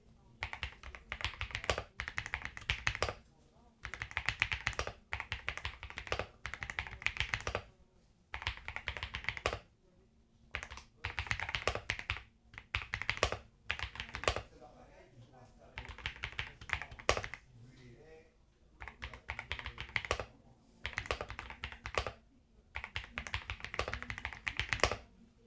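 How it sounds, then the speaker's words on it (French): Typing on a G-Lab Keyz Elite 300 keyboard with a gasket-mounted plate and plastic case, close and steady: bursts of muted, dull keystrokes broken by short pauses. "la plaque flotte sur des joints en caoutchouc. Cela absorbe les vibrations et produit ce fameux toc sourd et feutré"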